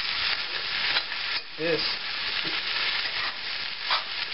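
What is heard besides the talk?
cabbage and Spam frying in a pan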